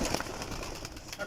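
Pigeons coo softly in a loft where birds are kept, a low murmuring burble against steady background hiss, faint and continuous, with people talking over it.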